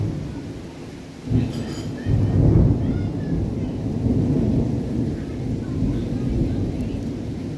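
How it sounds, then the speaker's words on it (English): Deep thunder rumbles roll through a rainstorm on Molokai, with a sharp crack followed by a long, heavy low rumble over steady rain hiss. "Just had some big thunder, which we don't get very often."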